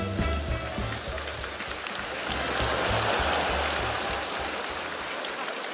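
Studio audience applauding in a Russian-language comedy parody show as a guest, a Ukrainian parliament deputy, is welcomed: dense, steady clapping that stays fairly loud and even for several seconds with no voices over it.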